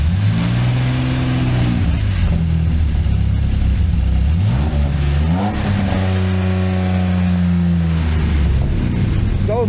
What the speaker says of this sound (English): we're about to fire up for the first time with its new exhaust.